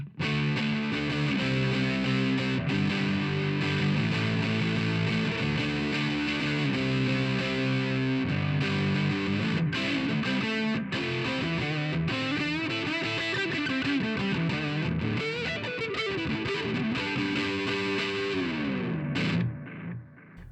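Distorted electric guitar through an Orange Micro Dark amp with a warm, rounded neck-pickup tone, sustained chords and melodic runs playing continuously, close and loud, ending with a fade.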